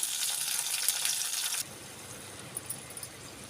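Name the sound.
tomato and onion lightly frying in oil in a pan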